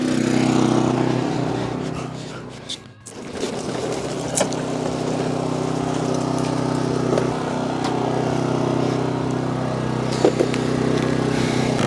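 A small petrol engine, recently run in, idles steadily nearby while warming up, a constant droning hum with a brief dip partway through before it settles back to an even run.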